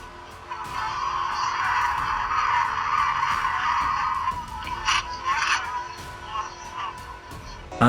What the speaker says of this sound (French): Une voiture a perdu le contrôle et a failli percuter plusieurs personnes à Kastamonu, en Turquie